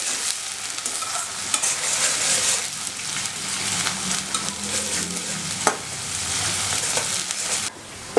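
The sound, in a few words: frying chopped methi leaves with onion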